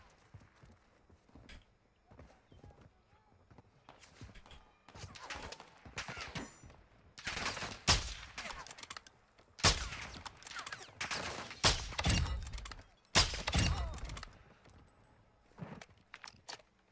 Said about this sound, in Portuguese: Tem uns caras atirando ali como se tivesse alguém naqueles prédios de lá